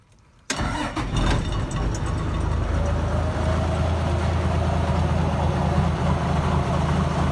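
A teen-style car's engine fires up abruptly after a brief silence, then settles into a loud, steady, close idle with a low rumble that continues to the end.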